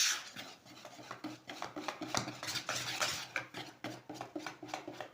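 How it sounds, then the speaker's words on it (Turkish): A wire whisk beats cake batter in a bowl, quick scraping and rattling strokes repeating in an uneven rhythm, close but fairly quiet and with no talking. "Şimdi bu aşamadan sonra tel çırpacağımla çırpacağım."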